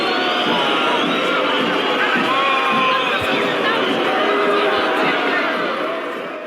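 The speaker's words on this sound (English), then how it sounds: "Listen to this crowd. It sounds insane." Boxing crowd in the film Rocky IV roaring and cheering, a loud, sustained wall of massed voices with scattered shouts and no gaps.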